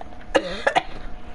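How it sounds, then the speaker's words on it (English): A person coughs twice in quick succession, close and fairly loud, with a brief pause between the bursts and quiet around them. "You're actually coughing now."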